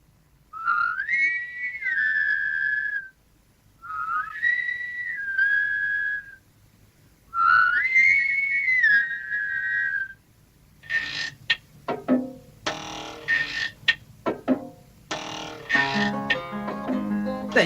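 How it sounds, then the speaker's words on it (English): Three long, rising whistled notes sound in turn with short pauses between, followed by a busier stretch of choppy whistles and noises from many people whistling in a children's radio show. "then so many people whistling is sure to work"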